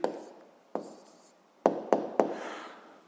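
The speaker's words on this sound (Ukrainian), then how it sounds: "Записуємо відповідь. Пишемо відповідь." A pen writing out an answer by hand on paper: a few short, distinct scratchy strokes and taps, close and quiet, with no talking.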